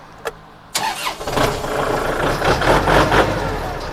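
A used machine for sale with 957 hours of use is started: a sharp click, then the engine cranks and catches into a loud, steady rumbling idle close by.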